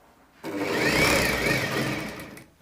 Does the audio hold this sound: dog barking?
no